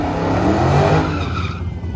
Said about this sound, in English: This is a nitrous E85 Scat Pack.